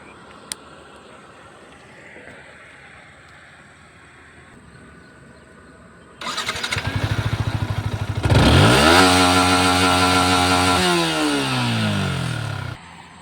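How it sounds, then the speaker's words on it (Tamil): A Yamaha MT15 BS6 155cc motorcycle's exhaust, quiet at first, then a loud close-up idle that breaks into revving, the engine note climbing sharply, holding high and dropping back before cutting off. "இப்போ வந்து வண்டியோட எக்ஸாஸ்ட் பார்த்துக்கலாம் நம்ம."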